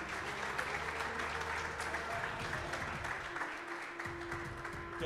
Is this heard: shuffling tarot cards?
no